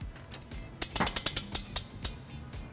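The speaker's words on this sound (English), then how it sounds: "we can use our U-Haul exclusive hitch jack to hold the hitch in place" A U-Haul hitch jack being ratcheted up under a heavy trailer hitch on a 2019 Hyundai Elantra, a quick run of about nine sharp metallic clicks close by over a low background rumble.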